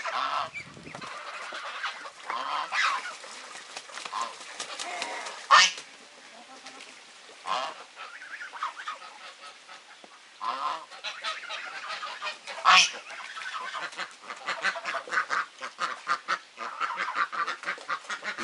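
Repeated loud quacks and honking calls from several ducks and geese, near and irregular, with splashing from a pool and faint voices in the background.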